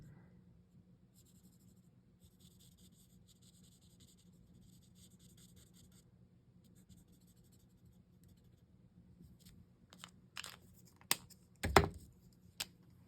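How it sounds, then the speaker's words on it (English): Pencil coloring on paper for a stamped magnolia card: a soft, steady scratching runs faint and close throughout, ending in a few louder strokes and taps near the end. "You notice I turn my paper as I color."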